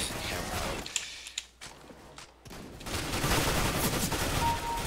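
A FAMAS rifle in the CS:GO video game fires in burst mode, several sharp clusters of gunshots amid game noise, with a quiet gap in the middle before the action picks up again.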